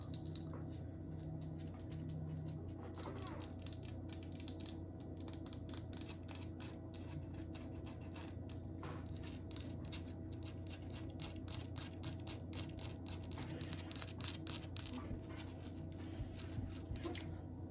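A student jeweler taps and scratches on metal jewelry tools, producing quiet, rapid clicks and scrapes in an irregular rhythm over a steady low hum, close and soft with no talking.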